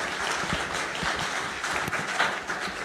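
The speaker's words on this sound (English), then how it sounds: "Let's give him a round of applause." Audience applause after a talk at a university Newman Center faith discussion; a full room clapping steadily, a dense, even patter at moderate volume with a few sharper claps standing out.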